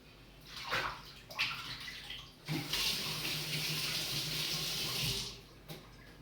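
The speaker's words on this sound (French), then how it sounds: "je vais être obligée de me rincer les mains" Hands being rinsed under running tap water at a sink in a home kitchen while making a chocolate and pear mousse, a steady splashing flow of several seconds with brief handling noises before it starts; no talking.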